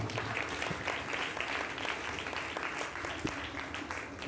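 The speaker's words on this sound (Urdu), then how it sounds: "آپ کے لیے بھی زوردار تالیاں۔" A crowd claps steadily and enthusiastically at a church feast celebration for St. Anthony of Padua, a dense, continuous patter of many hands that holds an even level throughout.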